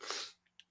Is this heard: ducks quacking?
no